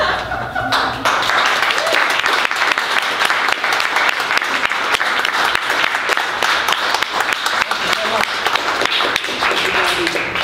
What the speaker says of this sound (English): You're very gracious with your applause.